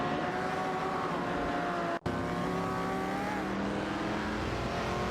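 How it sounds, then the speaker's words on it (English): Race car engines in a racing video game whine past in sustained, pitch-shifting tones, loud and close, with a brief cut near the middle before the engine drone resumes. "Enjoy the race cars speeding by with us."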